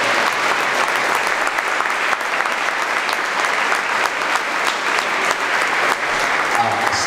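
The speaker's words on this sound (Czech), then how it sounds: "Prosím, potlesk ještě jednou" Sustained audience applause at a town award ceremony in Chrudim honoring local personalities, a dense, loud, continuous crowd clapping lasting several seconds with no break.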